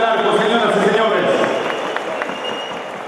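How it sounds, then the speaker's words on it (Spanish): Spectators at a horse show applaud an exhibition mare, Fogata del Arco, with a broad wash of clapping that slowly fades while an announcer speaks over it. "el fuerte aplauso nuevamente para este ejemplar fuera de concurso"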